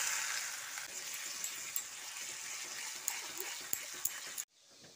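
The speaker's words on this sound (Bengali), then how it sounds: "এবার কুড়িয়ে নেওয়া আলুগুলো ভেজে নিচ্ছি।" Potatoes frying in oil in a pan, a steady, close hissing sizzle with scattered small pops that cuts off abruptly just before the end.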